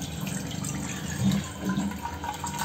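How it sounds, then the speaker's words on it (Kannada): Water runs into a pot in a home kitchen as Maggi noodles are being prepared. The pouring is a soft, continuous trickle and splash, fairly faint and close, with no voices. "ಇವಾಗ ಒಂದು ಬೌಲ್ ಅಷ್ಟು ನೀರು."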